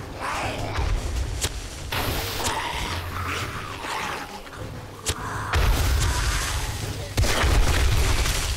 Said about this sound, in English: Oh, cop explosion.